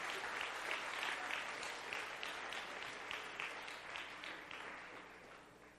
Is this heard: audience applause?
yes